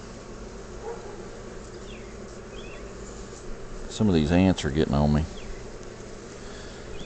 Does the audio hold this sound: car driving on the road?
no